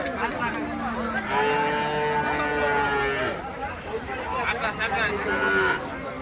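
A pair of white calves moo at a busy cattle market, with several drawn-out, close calls over crowd chatter and people talking nearby.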